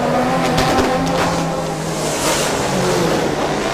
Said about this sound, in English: You hear the engines roar. Most of that roar is from the V8 monster from the TA up front.